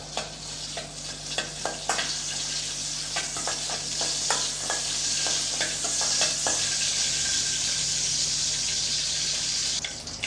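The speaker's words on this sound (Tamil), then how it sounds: "சேர்த்து நல்லா வாசனை வர்ற அளவுக்கு நல்லா வதக்கி விட்டுக்கலாம்." Dried red chilies sautéing in hot oil for a drumstick-leaf stir-fry, a steady close sizzle broken by frequent sharp clicks and scrapes of a spoon stirring in the pan, with no talk.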